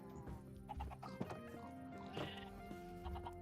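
Chickens clucking in the Minecraft video game, a quiet run of short, repeated clucks and squawks with a faint bustle of other game sounds.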